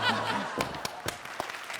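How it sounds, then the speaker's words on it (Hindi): Sharp scattered claps from a studio audience on a comedy show stage, a few distinct hand claps over a murmur of background voices and chuckles, moderately close. "जो आप खड़े होकर तालियां बजाने लग गए"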